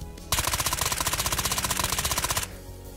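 A burst of automatic gunfire from a gun in the VR shooter Ghosts of Tabor: about two seconds of rapid, evenly spaced shots, loud and close, ending abruptly with no talk.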